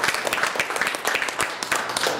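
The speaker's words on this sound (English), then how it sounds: "give them a round of applause" An audience at a public event breaks into steady, dense applause that fills the whole stretch with many hands clapping at once, without pause.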